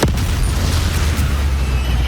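Incendio fire spell from Hogwarts Legacy, a sudden heavy whoosh that swells into a sustained, booming roar of flame, loud and close throughout.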